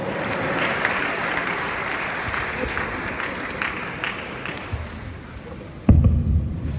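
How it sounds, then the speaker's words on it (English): An audience at a youth empowerment programme event applauds steadily to welcome a speaker, a continuous even wash of clapping with a louder thump near the end. "Ladies and gentlemen, with a round of applause"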